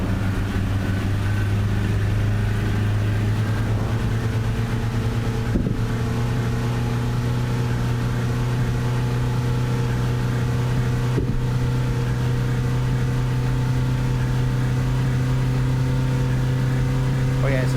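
Engine drone of a bus with a 3-speed automatic gearbox in Tourist Bus Simulator, a steady low hum with a constant tonal whine, running continuously at even loudness throughout.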